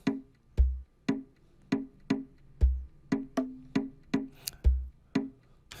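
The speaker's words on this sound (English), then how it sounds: "I'm talking about the AmaPiano percussions." Amapiano percussion beat of crisp, dry hits in a steady syncopated pattern, punctuated every couple of seconds by a deep low log-drum thump, with nobody talking.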